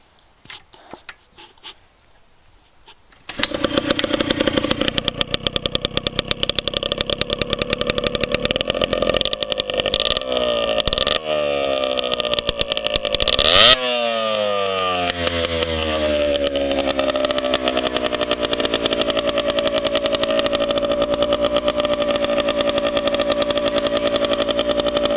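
A 1992 Yamaha RT100 two-stroke dirt bike kicks into life after a quiet moment, revs raggedly with a few throttle blips, then settles into a loud, steady, buzzing idle close by.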